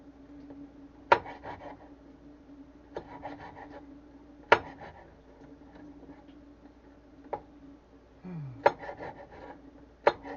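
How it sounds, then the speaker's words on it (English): A wooden cutting board lifted and shifted in a home kitchen to reach a cast iron pan, giving several sharp knocks and wooden clatters spread out amid quieter rubbing and a low steady hum. "I have to remove my cutting board here to get my cast iron so we can start our sausages"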